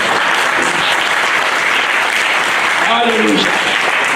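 A church congregation applauds steadily throughout, a dense, even wash of clapping with a voice calling out praise over it near the end.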